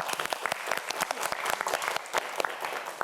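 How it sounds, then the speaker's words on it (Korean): A brief burst of enthusiastic clapping from a small audience, steady and lively throughout. "자, 박수 한번 보내주세요."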